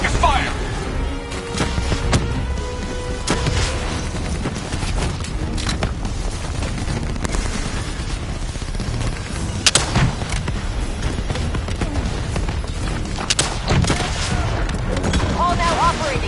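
Sustained heavy gunfire and explosive booms during a Black Ops III boss fight against a Manticore, dense and loud throughout with sharp blasts standing out, and voices calling out over the battle.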